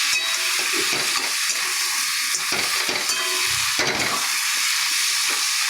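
Fried potatoes, green chillies and fried bhetki fish heads get stirred in a hot pan, with a loud, continuous sizzle broken by repeated scraping strokes of the spatula close by.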